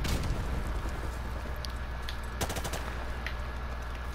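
RPD machine gun fire in Modern Warfare Remastered pours out as dense, sustained automatic bursts, loud and continuous with a sharper crack of shots partway through.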